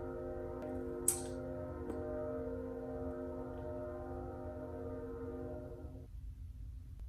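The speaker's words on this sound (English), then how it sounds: "There's a train coming by." A passing train near a home sounds a loud, sustained multi-tone horn over a low rumble for about six seconds, then cuts off, leaving quieter background rumble.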